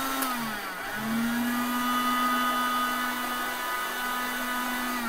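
A Panasonic blender set to speed 2 pulses pineapple chunks with water, its motor dipping briefly before surging into a loud, steady high whine that holds close and unbroken, with no talking.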